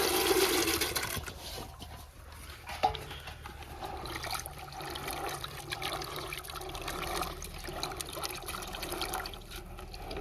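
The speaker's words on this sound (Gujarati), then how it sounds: "તો હવે આપણે આ ચણાને ધોઈ કાઢીશું" Green chickpeas are washed in clean water, giving a steady, close sloshing and splashing of water that runs continuously throughout without any talking.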